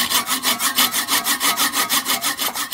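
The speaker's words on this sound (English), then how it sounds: "just need to slightly hacksaw them down" A hacksaw cuts steel bolts down to length in steady back-and-forth strokes, about six per second, loud and close with no talking.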